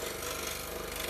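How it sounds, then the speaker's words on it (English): Handheld power drill boring small holes in snowman initial ornaments, a loud steady whirring buzz sustained through the brief moment. "then start the drill and drill it"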